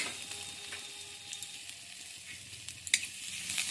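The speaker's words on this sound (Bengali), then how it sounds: "আদা জিরেটা একটু ভালো করে ভেজে নিচ্ছি" Grated ginger and whole cumin seeds fry in hot mustard oil, giving a steady close sizzle with light stirring scrapes and a couple of sharper clinks near the end.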